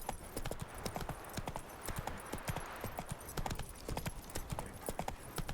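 Horse hooves clip-clop in a quick, steady rhythm while riding along a road in The Witcher 3, close and continuous at a moderate level.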